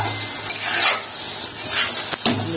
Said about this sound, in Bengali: পুরো রাইসটা এখানে ঢেলে নাড়াচাড়া করে নিচ্ছি।